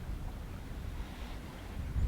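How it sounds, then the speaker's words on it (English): Steady low wind rumble buffets the microphone throughout on a cold fall day, growing a little stronger near the end, with no voices. "it was still windy and cold"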